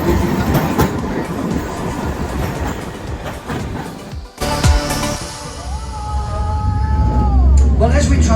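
Auckland tram running on the Wynyard Quarter loop, a rolling rumble with rattling wheels on rail and a thin squeal near the end, close and loud with a voice talking over it.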